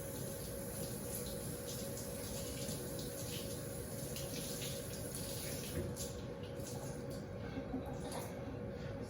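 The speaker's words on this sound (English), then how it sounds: "I'm going to rinse my rag." A kitchen faucet runs steadily while a rag is rinsed beneath it, giving a continuous splashing hiss with a faint tonal hum in the background and no speech.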